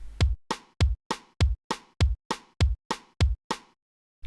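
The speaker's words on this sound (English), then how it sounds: "between the kick is a rim, and it's a very even pattern, so it will sound like this" A simple, even drum pattern programmed in FL Studio's FPC, with a kick alternating with a rim hit: about a dozen crisp, evenly spaced hits over roughly four seconds, close and dry, with no voice.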